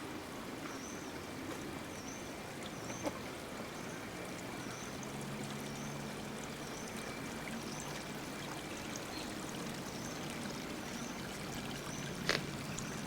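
A small stream in the Japanese garden at Ginkaku-ji flows with a soft, steady trickle and gentle pouring water, faint and continuous, with a few brief clicks and no talk.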